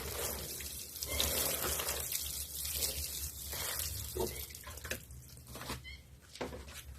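Water is poured and splashed over a soil mix containing cow manure until soaked, a continuous, fairly faint trickling and splattering with uneven surges.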